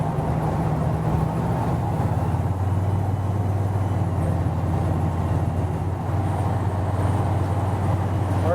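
A 1951 Chevrolet 5-window pickup cruising at highway speed, around 57 to 60 mph, with a steady low engine drone and a continuous rumble of road and wind noise inside the cab.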